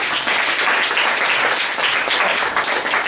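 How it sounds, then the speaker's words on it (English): An audience applauds Michael in a room, with steady, dense clapping from many hands that stays loud and even for the whole stretch, without a break. "Let's give Michael another round of applause."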